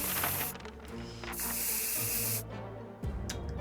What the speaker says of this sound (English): The anti-bug spray probably works the same way.